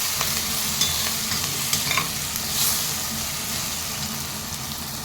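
Grated ginger sizzling in a hot pan as a spoon stirs it through a frying mixture for atte mentya bath, a steady close sizzle with soft scraping and no talking.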